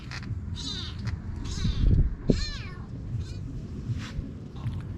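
A young kitten with a poor coat gives several high, drawn-out meows spaced a second or so apart, close and moderately loud over a low rumbling background.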